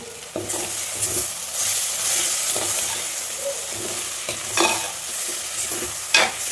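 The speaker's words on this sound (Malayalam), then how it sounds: "ഇതിലേക്ക് കുറച്ച് കറിവേപ്പില ഇട്ട് കൊടുക്കാം." Curry leaves dropped into a pan of okra and tomato curry crackle and sizzle steadily, broken by several scraping stirs and light clinks of a spoon against the pot.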